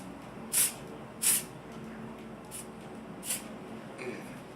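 A spray bottle is used during special-effects makeup, giving a few short, sharp hissing bursts, two close together and a softer one later, against a quiet room.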